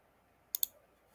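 Two quick, crisp mouse clicks come in close succession while settings are adjusted in development software on a computer, set against a near-silent room.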